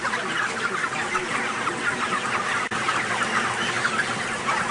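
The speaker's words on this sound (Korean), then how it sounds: "이곳의 닭은 모두 건강하고 활기차 보였다" A large flock of chickens in a crowded poultry farm barn clucks continuously, a dense, steady chorus of overlapping calls close by, with no talk.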